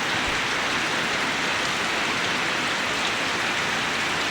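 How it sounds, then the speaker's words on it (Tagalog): Steady rain on its third straight day falls continuously, a full, even rush of drops that never thins or breaks. "wala nang tigil sa ulan"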